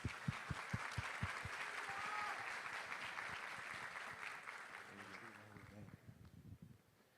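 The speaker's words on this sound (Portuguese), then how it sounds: "Uma salva de palmas." Audience applause at a university sports summit, a few sharp early claps swelling into steady clapping from the crowd, then fading as a voice comes in near the end.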